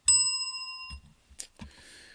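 One bright bell ring rings out clearly and decays over about a second, followed by a few faint knocks and rustles.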